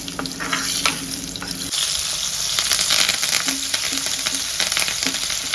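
Steady loud sizzling of spices frying in hot oil as tempering for gongura dal, with occasional stirring scrapes and crackles, close and continuous without any talk.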